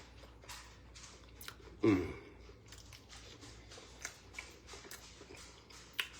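Crunchy crab cake being chewed close to the mic, a steady run of small crisp bites with one louder crunch early on, over faint room noise.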